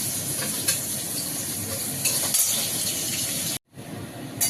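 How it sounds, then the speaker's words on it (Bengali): Prawns dropped into a hot pan with frying vegetables give a steady, close sizzling hiss that holds throughout, then stops abruptly near the end and resumes. "চিংড়ি মাছটা দিয়ে দিলাম।"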